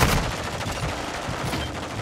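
Rapid automatic gunfire from an FTAC Siege in a Call of Duty: Modern Warfare II multiplayer match, a loud, dense stream of shots with a steady rhythm, close and continuous throughout, with no talk over it.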